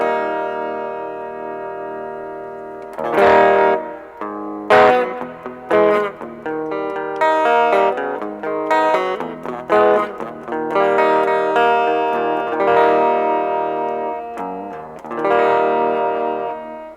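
Electric guitar through a Boss Metal Zone pedal playing sustained distorted chords and notes while the pedal's tone is swept, loud and bright with ringing tails and short gaps between phrases.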